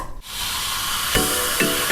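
Sprite lemon-lime soda fizzing, a steady close hiss of carbonation with a few brief sharper bursts of bubbling, heard alone.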